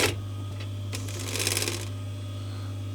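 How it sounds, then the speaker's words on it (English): An industrial sewing machine running fast with the presser foot up, a steady motor hum under rapid clattering needle strokes that swell in a burst and then stop abruptly. "if you don't know how fast an industrial sewing machine goes"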